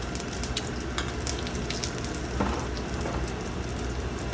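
Chicken francaise in an egg coating frying in a pan, giving a steady close sizzle and crackle with occasional light scrapes as the pan is shaken.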